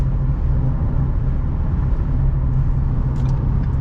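A grey 2013 Ford Fusion Hybrid SE cruising on a freeway under cruise control, with a steady low cabin rumble and road noise that holds constant throughout, loud and close, with no voices.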